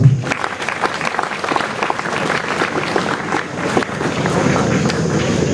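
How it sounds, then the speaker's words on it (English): Applause from an audience at a school homecoming celebration after a team qualified for the East Africa championship, steady dense clapping lasting throughout with some crowd noise mixed in. "Clap for them, please."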